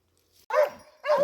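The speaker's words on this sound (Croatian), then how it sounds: "Idemo sad gore na lajanje da vidimo" Two loud, close barks from a hound about half a second apart, each a short harmonic burst, with a quiet breath-like sound just before, on a wild boar trail.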